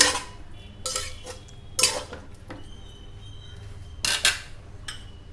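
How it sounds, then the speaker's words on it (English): Indian sorrel (chukka kura) being mixed into mutton in a cooking pot, heard as a few sharp metallic clinks and scrapes of a spoon against the vessel, spaced irregularly, fairly close, with quiet gaps between. "Now mix the Indian sorrel or chukka kura with the mutton."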